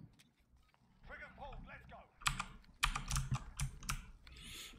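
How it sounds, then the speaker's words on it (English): Quiet keyboard clatter from a gamer's computer during a match, sparse clicks and a few sharper key bursts, mixed with in-game sounds and brief voice-like tones. "I think the only thing you guys can hear is my keyboard"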